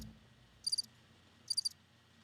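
Two short bursts of cricket chirping, each a quick trill of three or four pulses, clear and isolated against near silence.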